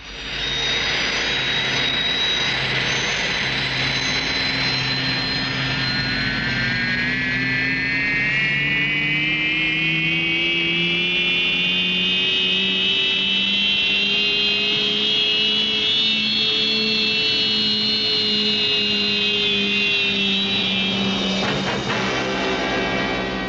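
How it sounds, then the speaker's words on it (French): A huge aircraft comes in to land in the Thunderbirds TV series, a loud continuous jet roar with a slowly rising whine that holds steady, then shifts near the end. "Vous voyez maintenant sur vos écrans un énorme vaisseau aérien."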